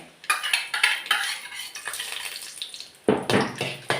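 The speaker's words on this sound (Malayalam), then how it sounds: "രണ്ട് ഉഴുന്ന പരിപ്പ് ഇടുവാണേ" Urad dal tossed into a small pan for tomato rice, with sharp metallic clinks of a spoon against the pan and light crackling in bursts, fairly close and alone.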